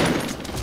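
Gunfire from the battle-royale shooter Fortnite, played in squads: a brief, dense burst of rapid shots filling the moment, loud and close, with no voices over it.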